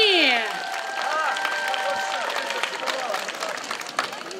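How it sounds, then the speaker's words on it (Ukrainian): A crowd claps for a girl in modern embroidered dress at a Trinity (Green Holidays) celebration, steady clapping running throughout alongside voices, whistles or cheering tones and bright sliding sounds at the start. "Оплески Анічці!"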